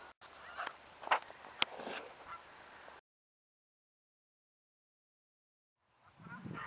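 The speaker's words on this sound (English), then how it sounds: "I don't think these geese know that I'm trying to make a video." Geese honk outdoors on a windy spring day, several loud calls over gusty wind noise, then a short silence before more wind.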